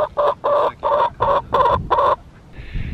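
Several hens clucking in a quick run of seven loud, evenly spaced bursts, close by in a backyard coop where eggs are laid, followed by a fainter high call at the end.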